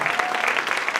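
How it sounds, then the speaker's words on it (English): Applause at a school hall of fame ceremony, a steady dense wash of hand claps filling the room, fairly loud and continuous throughout. "So how about one more round of applause for them?"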